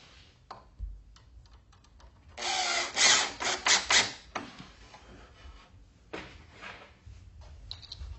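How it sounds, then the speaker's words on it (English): Cordless power drill driving screws to mount an electrical receptacle box, in a few loud whirring bursts from close by, with quieter handling noise between them. "Get your drill handy."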